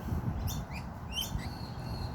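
Birds chirp outdoors in quick, bright tweets, several short calls close together over a low rumble of background noise.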